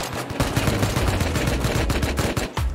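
Rapid bursts of gunfire from a survival video game battle, loud and continuous, with rattling automatic volleys and repeated sharp shots running nearly the whole time.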